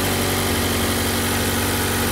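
A Mazda 6 with a large four-cylinder Skyactiv engine idles steadily with an even, throbbing hum, close and loud, and no other sounds.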